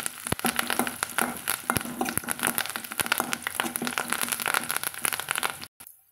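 Shallots and curry leaves sautéing in a hot pan for an okra curry, giving a steady dense sizzle with scattered crackles and stirring scrapes, close and loud, cutting off just before the end.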